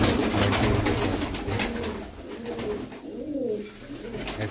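White pigeons with black tails coo softly in repeated low, rolling calls, with a steady background hum and some rustling nearby.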